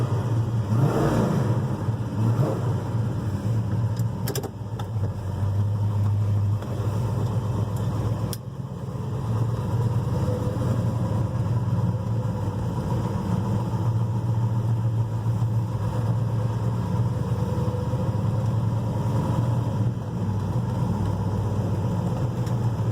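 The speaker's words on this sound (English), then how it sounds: "Okay, we're going to fire this Rebel up and see how she runs out." A 1969 Dodge Charger General Lee's V8 engine runs steadily, with a loud, continuous rumble close by and brief blips of revving throughout, alone without talk.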